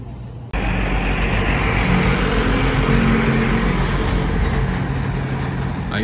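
A city bus pulls into an urban transit terminal in Pouso Alegre, Minas Gerais, its engine rumbling and idling loudly and steadily close by, with a faint high whine above.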